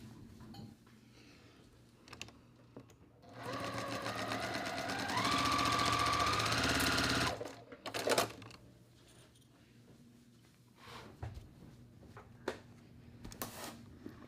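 A sewing machine stitching across a quilt block seam, a steady close mechanical whir running for about four seconds, with quiet handling clicks and rustles before and after.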